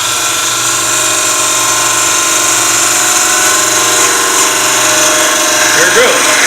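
A wood lathe runs steadily with a segmented turning ring spinning on the tailstock, giving a constant loud motor whine and hum with no breaks.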